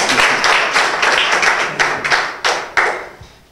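A live audience breaks into applause for Marcelo at a Brazilian rap battle event, bursts of clapping and hand taps rising and falling close by, with sharp accents near the end before fading out.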